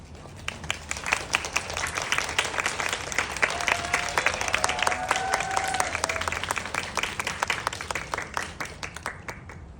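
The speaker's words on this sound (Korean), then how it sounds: "박수 부탁드립니다." Sustained audience applause at a film screening's audience Q&A event for the Korean film Escape, dense clapping filling the room at steady loudness throughout, with a faint voice or tone briefly audible in the middle.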